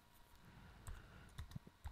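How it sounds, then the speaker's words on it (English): A few soft, scattered key clicks from typing on a regular Bluetooth keyboard, quiet and close, with irregular taps separated by brief pauses and no talking. "Because I actually am using a regular Bluetooth keyboard from my Note 2"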